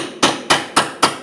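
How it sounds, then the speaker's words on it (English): Hammer striking a small cold chisel to break free a bolt on the rear lower control arm of a 2016-2025 Chevrolet Malibu, four sharp loud metallic blows in a quick even rhythm, close up. "So I'm going to use like a little cold chisel, see if I can break this free."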